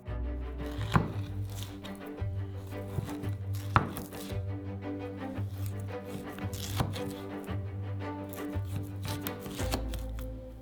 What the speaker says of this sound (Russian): Чистый жир нарезаем на пластинки.